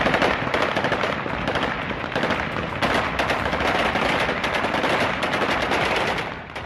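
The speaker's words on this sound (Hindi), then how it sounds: "गोलियां चला रहे हैं।" Celebratory gunfire from Taliban fighters in Kabul, Afghanistan, a dense, continuous crackle of rapid automatic bursts and overlapping shots that stays loud and unbroken throughout, with no voices.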